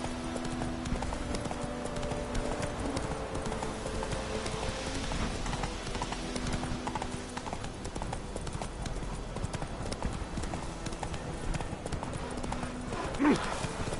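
Horse hooves clip-clop steadily on the ground in The Witcher 3 video game, a continuous even rhythm heard fairly quietly, with faint voices and background ambience mixed in.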